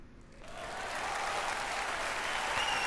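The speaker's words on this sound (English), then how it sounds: "There was a huge wave of applause" A huge wave of applause from a crowd swells up quickly from near silence and then holds as a steady, full roar of clapping, fairly soft overall and with no voices.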